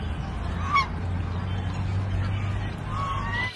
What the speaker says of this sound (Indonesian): yang ini ada hewan angsa